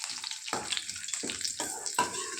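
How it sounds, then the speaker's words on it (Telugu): Cumin, mustard seeds, garlic, dried red chillies and curry leaves sizzle loudly in hot oil, crackling bursts rising again and again as more goes into the pan, with no talking. "ఆయిల్ హీట్ అయిన తర్వాత జీలకర్ర, ఆవాలు, ఎల్లిపాయలు, ఎండుమిరపకాయలు, అలాగే కరివేపాకు కూడా వేసి వేయించుకోవాలి"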